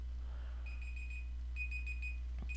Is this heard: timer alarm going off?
yes